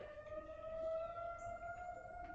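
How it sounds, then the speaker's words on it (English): A tornado siren wails steadily, a sustained tone heard faintly at a distance with no one speaking. "Well, that sounds like I'd call it a tornado siren if I was in Texas."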